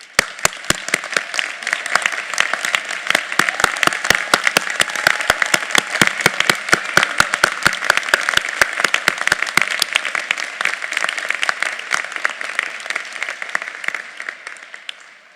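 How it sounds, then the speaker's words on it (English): Sustained applause from a graduation audience at the University of Houston, honoring standing military members and veterans; dense, steady clapping fills the whole span at full strength, then thins slightly near the end. "receive our applause and heartfelt appreciation for your service to our great nation"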